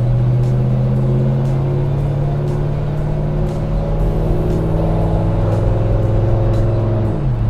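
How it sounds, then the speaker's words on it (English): Car engine under steady load with an automatic transmission stepping up through its gears, a continuous near drone whose pitch climbs and resets at each shift, with no talking. "So we're shifting through all of our gears currently."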